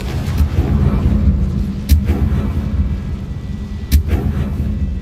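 Fire-spell blasts go off in a wizarding action game, two sharp bursts about two seconds apart rising out of a dense rumbling roar, with echoing tails in a busy, loud scene.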